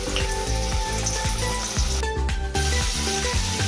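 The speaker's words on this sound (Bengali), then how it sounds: "তেলটা গরম হয়ে এসছে, এবার আমি দিয়ে দেবো ফুলকপিগুলো।" Cauliflower pieces frying in hot white oil, a steady crackling sizzle with rapid popping bursts, close and continuous, briefly dipping near the middle.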